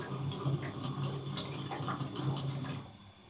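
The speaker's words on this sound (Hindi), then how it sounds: "सो मैंने सबसे पहले पानी चढ़ाना है सब चाय के लिए" Water running from a tap into a pot, filled to boil for tea in a home kitchen: a steady, close splashing with small dripping accents that fades out near the end, with no talking.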